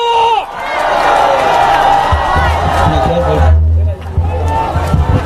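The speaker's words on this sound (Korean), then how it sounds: "열렬히 환영하면서 함성과 박수 부탁드립니다" A political rally crowd cheers and shouts in a loud, continuous roar with whoops, heavy low rumble underneath, dropping briefly near the end as voices and crowd noise carry on.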